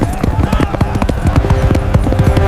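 Horse hooves clip-clop in a fast, even rhythm as a story sound effect for a horseback ride to Ajmer, loud and close over a soft sustained tonal backdrop.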